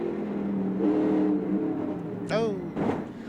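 NASCAR Xfinity Series race cars in the 1996 AC-Delco 200 at Rockingham Speedway, engines droning and whining through turns three and four, with a brief rising rev near the end, all beneath steady commentary.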